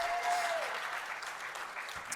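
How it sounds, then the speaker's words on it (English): Audience applause at a hall of fame induction, a short burst of steady clapping from a hall crowd, fading slightly toward the end. "A round of applause for Danny's family."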